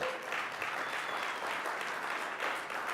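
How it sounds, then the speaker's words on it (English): Applause from diners at a 30th anniversary celebration dinner, a soft, even patter of many hands clapping at some distance, continuous and fairly quiet throughout. "Give Jimmy a round of applause, please"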